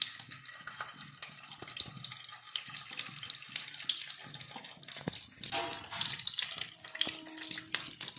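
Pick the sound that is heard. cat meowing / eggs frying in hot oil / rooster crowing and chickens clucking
eggs frying in hot oil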